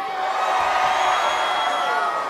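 A stadium-style audience of Botafogo supporters roars and cheers, a dense, continuous crowd wash of shouting and whooping at steady loudness, with no single voice standing out.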